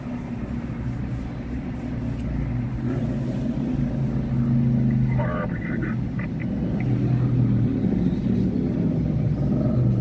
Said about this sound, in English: Isn't it crazy how one motorcycle could sound like 20?